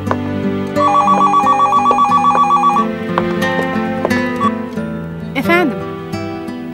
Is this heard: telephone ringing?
yes